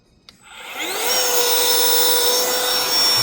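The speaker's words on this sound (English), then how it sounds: "hold down the power button to get to the vacuum, and or the air blower, and then it'll blow out air" A camp light with a built-in air pump switches on after a click, its motor whirring up within a second into a loud, steady blowing drone that holds to the end.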